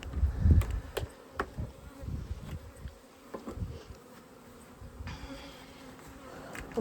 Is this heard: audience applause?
no